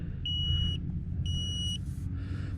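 A solar-powered LCD tire pressure monitor sitting in a car sounds two identical high-pitched electronic beeps about a second apart, over a low rumbling background.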